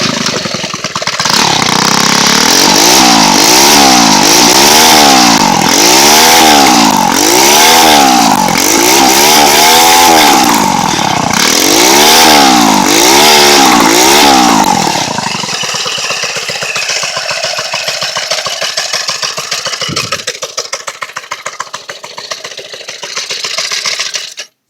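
Mini bike engine with a custom exhaust, loud and close, revving in a steady rising-and-falling rhythm for about fifteen seconds, then settling into a rough, lower idle with a brief sputter near the end.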